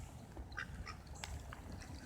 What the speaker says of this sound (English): they're black ducks